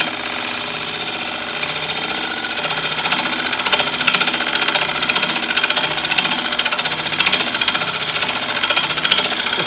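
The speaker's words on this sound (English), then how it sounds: "Still a lot of chatter on that, and you can see by the way the chisel is moving." A chisel chatters against a glue block spinning on a wood lathe, making a loud, continuous rapid buzzing rattle that grows stronger after the first few seconds and holds steady to the end.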